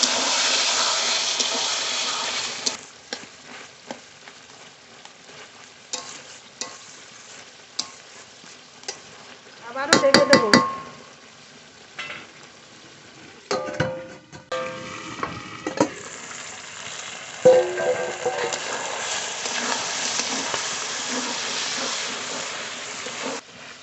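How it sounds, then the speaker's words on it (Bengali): Chicken curry made with home-raised desi chicken being stirred in a frying pan, a steady close sizzle broken by scraping spoon strokes and a louder burst of stirring midway, with no talk. "ঢাকনা তুলে মাংস নেড়ে দেবো"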